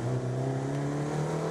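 A Nissan Pulsar front-wheel-drive rally car at a rally sprint holds a loud, steady high-rev engine drone with strong harmonic tones, close and continuous, with no talking.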